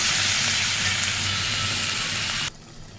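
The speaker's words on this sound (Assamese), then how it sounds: "এইখিনি এতিয়া ভাজিলোঁ মই" Spices frying in a pan for a simple chicken curry, a loud dense hiss and sizzle close by that cuts off abruptly near the end, leaving near-quiet.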